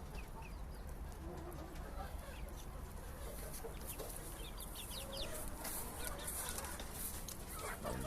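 Chickens clucking on a farm kept with chickens and pigeons: soft, scattered clucks and bird calls heard faintly at a distance against a steady background hiss, with no talking.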